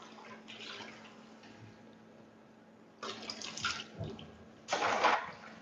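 Fragile 100% buckwheat soba noodles are gently rinsed under running water at a kitchen sink, a soft steady trickle that swells into louder splashing bursts near the end.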